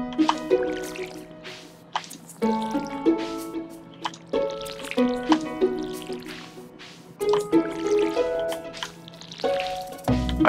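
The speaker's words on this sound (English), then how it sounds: "I'm guessing I need to water these." Watering crops in the Stardew Valley video game: a series of bright, bubbly water-pouring and dripping effects repeating in quick bursts every second or two over a faint steady hum.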